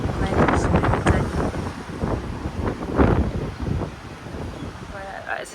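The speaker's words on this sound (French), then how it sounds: "Ici, il y a du vent aujourd'hui." Gusty wind buffets an apartment balcony overlooking a river and mountains, hitting the microphone in rough, uneven bursts that rise and fall throughout, with a voice faintly speaking underneath.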